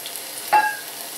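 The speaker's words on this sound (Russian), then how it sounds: "Теперь я отправляю в сковороду 2-ю порцию лука" Onion in a frying skillet gives a faint, steady sizzle, with one brief clink of a utensil partway through.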